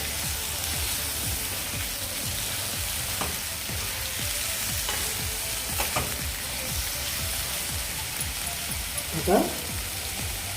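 Bombil fish coated in masala frying in a pan, a steady loud sizzle running throughout with occasional stirring scrapes and a brief clatter near the end.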